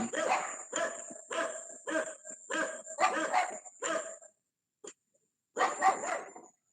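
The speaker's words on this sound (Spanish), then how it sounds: "Aquí hay un parque enfrente y eso sacan a pasear los perros, y cuando pasa alguien" Several dogs bark repeatedly from a park across the street, a run of sharp barks over about four seconds, a brief pause, then another short burst, moderately loud with some distance.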